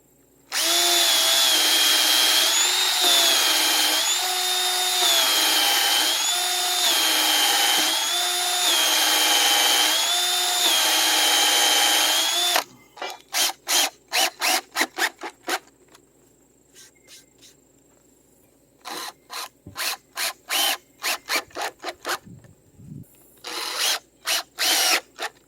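A power drill drives countersunk screws into a wooden joint during a well house build: first a long, loud, steady whir, then a series of short stuttering trigger bursts and ratchet-like clicks, close by.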